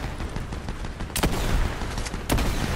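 Gunfire in Fortnite after the v25.20 update: a dense crackle of distant shots keeps going throughout, with two sharper, louder bursts standing out near the middle and the end.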